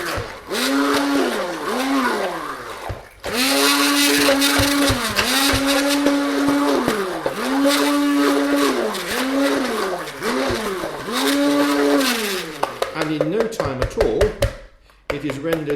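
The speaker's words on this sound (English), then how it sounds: "This is a blender which does just as well. So you just press the button." A blender whirs through curry paste in a home kitchen, a loud close motor that rises and dips in repeated pulses over several seconds, briefly stopping midway before running again.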